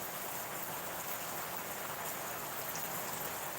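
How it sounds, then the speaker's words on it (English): Heavy rain pours down on a rainy morning in a steady, dense hiss of drops on surfaces, uniform and continuous, fairly quiet overall with no voices. "Yeah, lots of rain here, Len."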